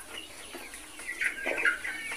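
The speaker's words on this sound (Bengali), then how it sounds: "আমি এই মুরগিটা পালন করতেছি" A BAU chicken, a new meat breed raised on a small Naogaon farm, clucks and gives short higher calls in an irregular series, close and moderately loud over a steady background hiss.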